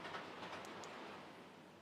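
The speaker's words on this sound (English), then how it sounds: "Time to stop the trains." Model trains run on a layout track, giving a faint, quiet rolling clatter with light clicking wheels that fades slightly toward the end.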